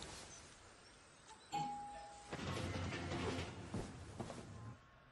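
A doorbell chime in a dubbed action-thriller film scene, a faint ding-dong tone followed by a longer rushing, muffled stretch of background sound.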